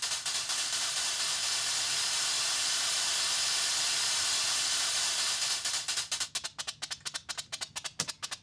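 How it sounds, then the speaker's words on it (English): A white noise riser in an electronic music production, with the filter release opened, a loud, steady hissing wash that breaks into rapid rhythmic noise bursts toward the end. "simply opening up the release will bring them up to a noise"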